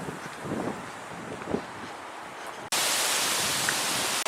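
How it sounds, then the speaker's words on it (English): Wind gusts buffet the microphone outdoors on a walking path, soft rumbling at first, then a loud, steady roar of wind noise for the last couple of seconds. "It's windy out here."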